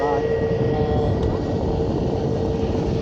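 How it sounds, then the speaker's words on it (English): An EasyJet Airbus A320neo airliner at Manchester Airport's runway visitor park, heard as a steady, loud jet engine roar with tonal hums across the whole stretch, while people talk over it. "that's an A320neo operated by EasyJet"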